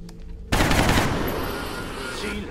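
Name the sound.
gunshots from the video game XCOM: The Long War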